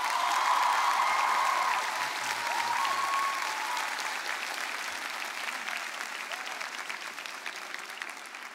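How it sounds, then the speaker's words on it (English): An audience at a keynote session applauds in a sustained, even wave of clapping that gradually eases off, with a few faint voices underneath. "how about one more big round of applause for Alex?"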